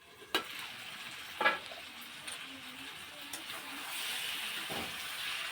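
Fish and raw banana curry sautés in a pan, a soft steady sizzle broken by a few scraping stirs and knocks, fairly quiet with a faint voice in the background.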